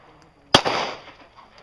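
A single sharp pistol shot at a practical shooting match, a sudden loud crack followed by a short ringing decay, heard alone against a quiet range.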